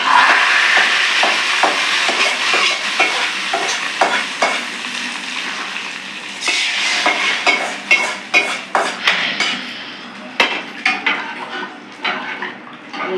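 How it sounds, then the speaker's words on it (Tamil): Hot tempering is poured into tomato rasam for a Tirunelveli-style pot, giving a loud, steady sizzle and crackle with repeated clinks of a spoon and vessel throughout. "தக்காளி ரசத்துக்கு தாளிச்சதை ஊற்றிக்கலாம்."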